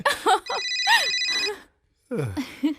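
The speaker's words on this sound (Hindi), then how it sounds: "ओह, प्लम्बर का फोन है।" A telephone rings with a bright electronic trill, fairly loud and close, while people speak around it.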